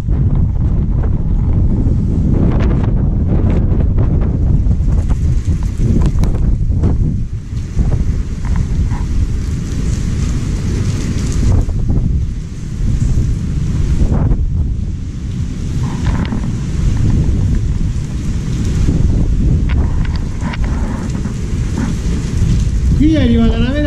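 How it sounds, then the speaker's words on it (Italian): Heavy wind buffets the microphone while rain and surging water roar steadily underneath, a loud, continuous stormy wash. "Qui è arrivata la vera tempesta"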